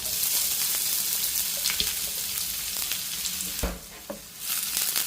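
Onion and spice paste with cumin sautéing in hot oil, a loud continuous close sizzle and crackle with occasional stirring scrapes and clinks of a spoon against the pan.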